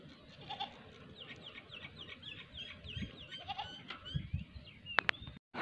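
A goat bleats in a few short, moderately distant calls outdoors near Jizan, Saudi Arabia, during a long mountain-bike ride, with chirping birds and faint rustling around it.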